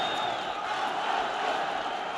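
Arena crowd at an MMA title fight in the Basket Hall Arena, a steady loud roar of cheering and shouting that holds without a break.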